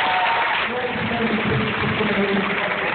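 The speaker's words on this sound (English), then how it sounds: "give these guys a huge round of applause from the back" An audience at a cast Q&A applauds the performers in a steady wash of clapping, muffled and dull in tone, with a voice speaking over it and a faint murmur underneath.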